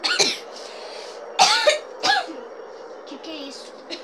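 Several sharp coughs from one person, a few separate bursts spaced over a few seconds, over a steady low background hum.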